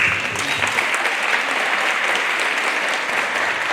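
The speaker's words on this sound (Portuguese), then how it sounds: "Uma salva de palmas para vocês." Sustained applause from a conference audience at a church event, dense steady clapping filling the whole stretch at even loudness with no talk over it.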